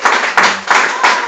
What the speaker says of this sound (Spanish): ¿Cuántos les pueden dar un fuerte aplauso a nuestro Señor Jesucristo?